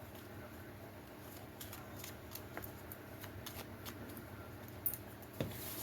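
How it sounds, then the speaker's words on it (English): Oracle cards shuffled by hand at a tabletop reading, with soft papery riffles and flicks that repeat irregularly, then two sharper slaps of cards near the end, fairly quiet and close with no talk. "Then we're gonna shuffle it more."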